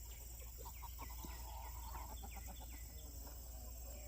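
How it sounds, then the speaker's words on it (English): Backyard chickens cluck in a quiet series of short, soft calls, close by but faint, with no talk over them. "What are you chickies doing back there?"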